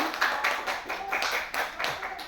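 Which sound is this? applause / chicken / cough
applause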